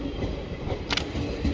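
An Indian Railways Siddaganga Express with ICF coaches departs from a platform, giving a steady rumbling roll of wheels on track with a faint high squeal, fairly close and without talk.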